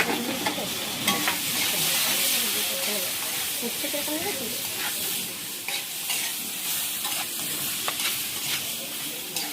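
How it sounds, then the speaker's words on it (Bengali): Green chillies with salt and turmeric frying in a pan, a steady bright sizzle with scraping stirs and spatula knocks throughout, close and fairly loud. "এই দেখো সুন্দর হাফ হাফ ভাজে সিদ্ধ হয়ে গেছে লঙ্কাগুলো।"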